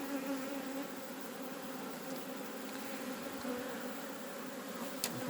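A swarm of Buckfast honey bees makes a steady, dense buzz throughout, close and continuous, without a break.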